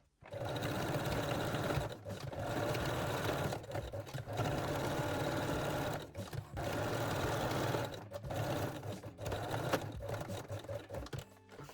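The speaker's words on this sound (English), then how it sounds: "the last step is to backstitch all seams with a straight stitch" A sewing machine runs straight-stitch backstitching along the seams of mesh panties, several long steady bursts of fast whirring separated by brief pauses, close and alone.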